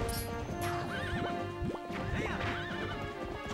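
A horse in the video game The Legend of Zelda: Twilight Princess neighs and whinnies repeatedly, loud and close, over steady clip-clopping hooves and a continuous game soundtrack.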